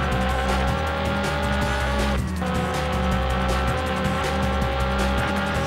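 GT race car braking hard in the PS1 game Le Mans 24 Hours, a steady engine drone with tire squeal and a brief downshift dip midway, loud and continuous without voices.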